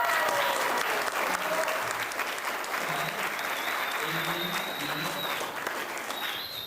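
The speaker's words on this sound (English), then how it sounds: "So let's give them a round of applause." Audience applause fills a high school gathering of a Burmese community welcoming newcomers, steady and dense clapping throughout with a faint murmur of voices underneath.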